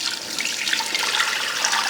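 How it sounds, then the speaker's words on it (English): Reduced chicken bone broth pours steadily through a fine mesh strainer, making a continuous close liquid splashing and trickling sound with no pauses and no voices. "We're just gonna pour it through this fine mesh strainer."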